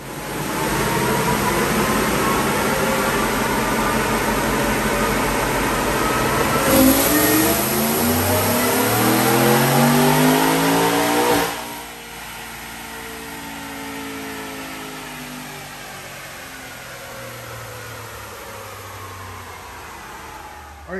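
A supercharged 2020 Ford F-150 with a 5.0 V8, Whipple Stage 2 blower, Kooks headers and high-flow cats, revs hard on a dyno. Its engine roar climbs steadily, peaks, then drops to a lower idle-like drone. Loud and close, with no talking.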